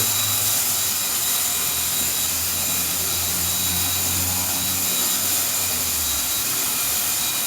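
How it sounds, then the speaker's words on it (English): Small 40-volt battery work sprayer running and sucking liquid into a bucket, a loud steady motor whine and hiss with a low pump drone that cuts out near the end. "Here's a little work sprayer in action."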